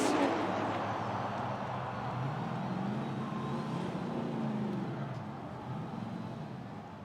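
Formula Drift drift cars at Irwindale during Pro Top 16 battles, engines roaring steadily and loud throughout with tire screech mixed into a broad, constant wash of noise.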